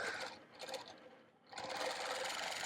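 Close, loud, steady whir of a sewing machine stitching a quilt, running in two bursts with a brief pause between them, with no talking.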